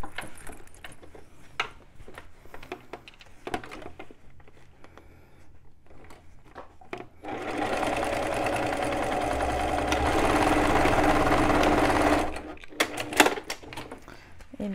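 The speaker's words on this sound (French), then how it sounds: "je vais venir faire une couture de renfort." A sewing machine runs a steady, continuous reinforcement seam on a fanny pack for several seconds, preceded and followed by scattered clicks and handling noises.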